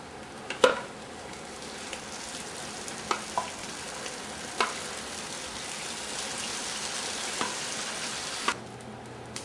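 Tomato sizzling and frying in a hot pan, a steady crackling hiss running throughout with a few sharp pops and spatters along the way, close and moderately loud, with no talking.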